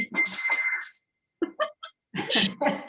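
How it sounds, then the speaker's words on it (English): A doorbell chimes at a home, a couple of bright ringing tones heard near and fairly loud, with short gaps between them. "the doorbell."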